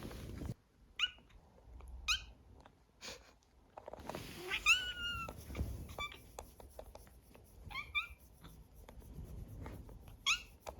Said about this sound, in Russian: Еще из особенностей она очень смешно мяукает.